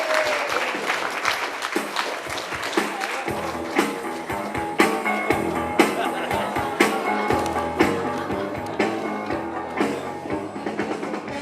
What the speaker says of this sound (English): If you could give a big round of applause for our first speaker this evening